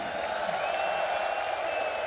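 Arena crowd at the Royal Arena in Copenhagen applauding Nico and G2 at a Counter-Strike 2 major quarterfinal, a steady dense wash of clapping and cheering with no break, fairly loud and continuous.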